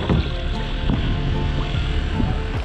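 Kayak paddles stroking through water on a first-time outing, with steady splashing and low wind-buffeted rumble filling the clip without pause, close to the microphone.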